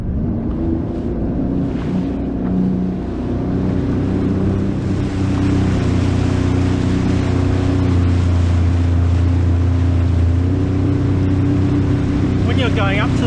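A jet ski's engine runs steadily on the water at a beach, a loud continuous drone that holds through the whole stretch with a slight swell midway, while someone talks over it.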